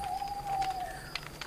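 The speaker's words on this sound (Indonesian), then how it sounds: "Terdengar suara burung pungguk di malam hari bersama bunyi unggas" Owl and forest birds calling at night in a moonlit setting: a steady, thin, whistling call holds for nearly a second, faint and distant, with scattered softer chirps and no talking.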